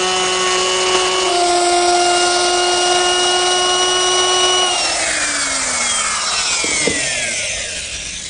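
A router fitted with a 1/2 inch bit cuts grooves in a wooden post for an outdoor planter. A loud, steady high motor whine runs with no talk, then winds down in pitch near the end.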